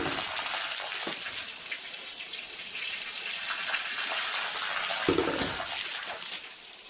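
Water gushes steadily through the hydraulic mechanisms of a grotto in Austria, a continuous rushing flow with brief louder surges, close and alone.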